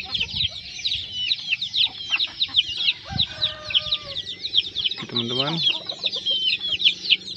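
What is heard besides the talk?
junglefowl and village chicken crossbreeds clucking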